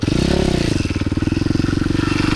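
A supermoto dirt bike engine roars steadily and loudly up close during a wheelie, with a rapid rhythmic pulsing that swells slightly early on and then holds a strong, even throttle.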